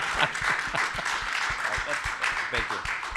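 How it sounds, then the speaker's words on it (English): A conference panel audience claps and applauds continuously at close range, a dense wash of hand claps with some cheering voices mixed in. "can we get a round of applause"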